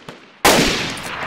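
A single loud gunshot cracks out abruptly after a quiet moment in a deathmatch video game, its blast ringing and fading over about a second.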